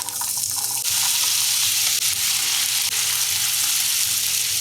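Cubed potatoes sauteing in butter in a pan over medium heat, a steady close sizzle and crackle running throughout with no talking.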